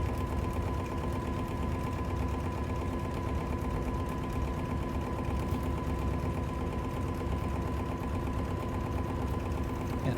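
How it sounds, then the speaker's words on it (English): A sewing machine runs steadily and quite loudly, stitching a regular quarter-inch seam on a table runner with a Creative Icon 2 sewing and embroidery machine, its continuous rapid mechanical chatter alone with no talking. "So I'm just going to sew a regular 1/4 inch seam."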